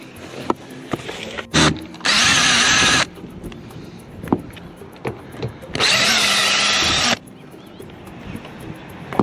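A power drill punches a hole in an off-grid camper during demolition, two loud sustained bursts of whirring close by, amid knocks, clatter and handling sounds.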